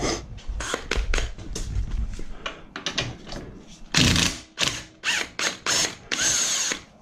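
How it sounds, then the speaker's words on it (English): Up close, a hand ratchet clicks in quick bursts as it backs the nut off a motorcycle swing arm. Short runs of clicks come with brief pauses and a few louder, sharper stretches. "take the nut off the swing arm,"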